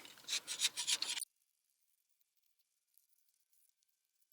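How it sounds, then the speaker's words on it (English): A brief burst of rough, rhythmic scraping strokes as a scraper removes an old gasket from a Duramax truck's rear differential, close and fairly loud, stopping abruptly after about a second into near silence. "Take your scraping tool."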